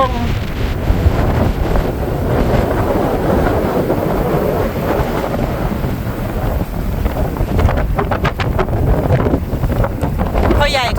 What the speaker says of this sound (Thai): วันนี้เอาลมทะเลมาฝากพี่น้องเด้อ